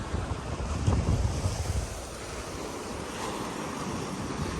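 Ocean waves break on the beach at Arugam Bay's Peanut Farm: a continuous rushing surf wash, loudest early on, with heavy wind buffeting the microphone.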